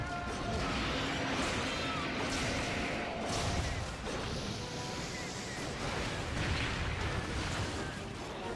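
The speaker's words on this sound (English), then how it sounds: "apparently that explosion's a little bigger than it looks" Explosion in Monster Hunter Generations Ultimate: a dense, roaring, crashing burst of game noise with rumbling debris that fills the whole stretch, loud and continuous with a few sharper impacts.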